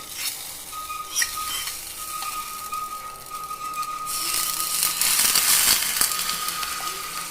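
Hot oil crackles and sizzles as tempering spices hit the pan for coconut chutney, growing louder and more vigorous toward the end, with a few faint clinks.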